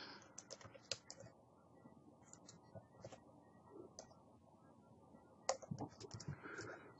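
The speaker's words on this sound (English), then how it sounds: "let me finish typing it in" Typing on a computer keyboard: irregular bursts of quiet key clicks with short pauses, close and soft, no talking.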